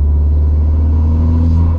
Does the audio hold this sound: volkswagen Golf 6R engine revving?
yes